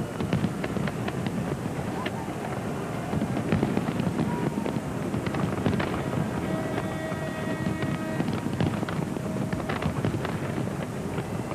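Fireworks display over the River Thames in London at midnight on New Year 2000, a dense continuous roar of crackling bursts and distant bangs heavily buffeted by wind noise on the microphone.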